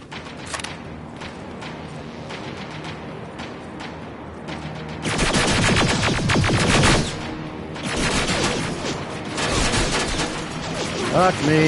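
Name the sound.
turret machine gun fire in Terminator: Resistance video game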